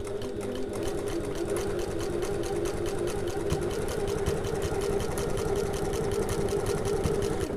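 A sewing machine stitches mesh into a tote bag pocket with stretched elastic, running continuously with a steady, rapid mechanical chatter close by.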